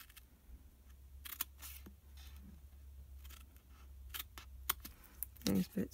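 Scissors snip and notch card stock for a gift box lid in a few quick, crisp cuts near the end, close and fairly quiet, over low room hum and soft handling noise.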